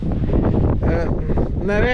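Strong wind buffets an outdoor microphone at the Albanian coast, a loud, near rumble throughout with someone talking over it.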